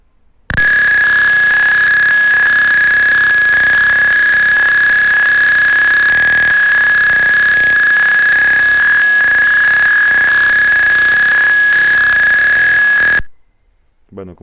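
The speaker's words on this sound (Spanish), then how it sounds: "lo que ocurre es que se activa el pitido, por lo cual vamos a activarlo" A loud, continuous electronic beep from a temperature-monitoring alarm holds one steady high tone for about twelve seconds, then cuts off abruptly.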